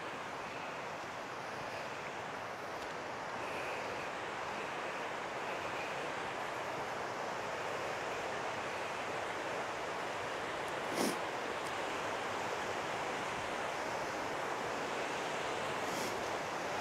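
Indian Creek Falls, a waterfall on a creek trail in the North Carolina woods, gives a steady, broad rushing roar at moderate distance that continues unbroken for the whole stretch without anyone speaking.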